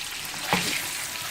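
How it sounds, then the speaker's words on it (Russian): Fish and garlic frying in a pan for a creamy garlic sauce, a steady close sizzle with one brief scrape or stir near the middle, no voices. "У нас обжаривается рыба и чеснок."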